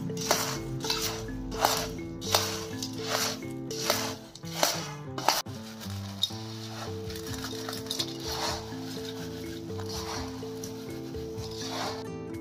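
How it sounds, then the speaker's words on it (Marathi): Spicy khari boondi mixed with red chili powder and garam masala in a large bowl, heard as repeated rustling scrapes and clinks of a spoon against the bowl in uneven bursts, close and moderately loud, with no talking. "मी हे मोठ्यामध्ये टाकले आहे। आता मिक्स करून घेत आहे।"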